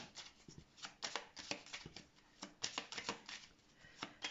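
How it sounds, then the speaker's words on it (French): Tarot cards are laid down one after another in a quiet room, giving soft close slaps and light shuffling rustles in an uneven rhythm, faint overall. "je vais venir mettre 3 cartes ici"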